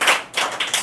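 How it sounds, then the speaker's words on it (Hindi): A short burst of hand clapping for a student at a school prize ceremony, a few uneven claps lasting under a second. "इनके लिए भी ताली"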